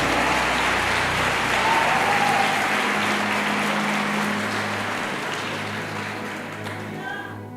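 Church congregation applauding during a Portuguese sermon, a loud dense wash of clapping over a low organ or keyboard drone that slowly fades over the final seconds.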